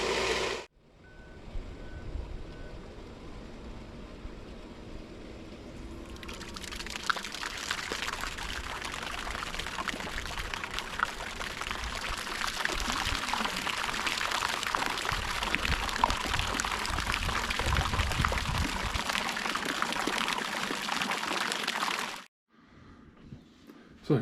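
Pond aerators switch on and water rushes and pours through a pipe, a loud continuous outdoor gush that starts a few seconds in, runs steadily for about fifteen seconds, then cuts off abruptly.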